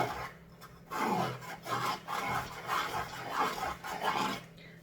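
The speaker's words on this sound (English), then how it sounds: "I'll take my Scotch-Brite pad and I'll just start sanding." Close, rasping scrubbing strokes of a Scotch-Brite pad sanding a metal surface, repeated in a steady back-and-forth rhythm with short pauses.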